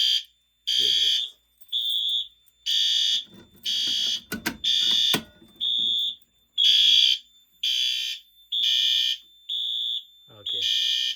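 Firelite MS-5012 fire alarm system sounding, a loud pulsing electronic tone in regular on-off bursts about once per second, with brief handling clatter in the middle and a voice at the end.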